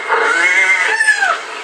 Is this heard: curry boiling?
no